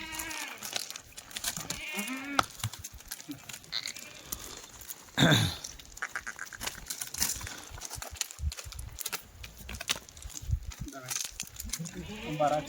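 Kathiawari goats bleat amid a noisy farmyard, with people talking throughout and one louder bleat standing out midway.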